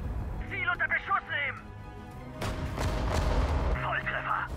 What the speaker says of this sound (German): Feind gesichtet! Ziel unter Beschuss nehmen!